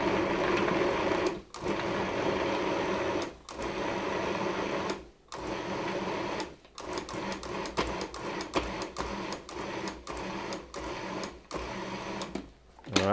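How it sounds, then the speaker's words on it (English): A food processor pulses butter into flour for a cobbler dough, motor whirring in repeated bursts of a second or two separated by brief pauses, close and steady, with no talk. "Now we want to pulse it until that butter mixes with the flour"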